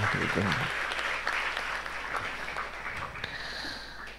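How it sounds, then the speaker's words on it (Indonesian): Applause for colleagues at a national meeting on Islamic boarding schools tackling waste: a room of clapping that rises under a speaker's voice on a microphone, then fades away. "Aplaus buat rekan-rekan semuanya."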